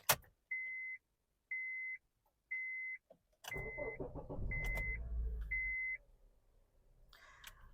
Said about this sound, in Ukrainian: Давайте ми тепер заведемо автомобіль.